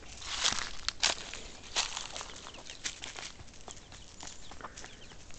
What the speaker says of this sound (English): Baby chicks.